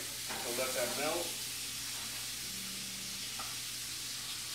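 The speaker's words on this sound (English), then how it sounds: "Then we have about 4 cubes of butter, all right? So let that melt." Butter and crushed garlic sizzle beside a pork tenderloin in the pan, a steady close hiss that continues after a brief voice at the start.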